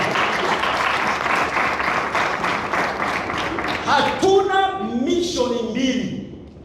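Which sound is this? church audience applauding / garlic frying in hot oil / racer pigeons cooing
church audience applauding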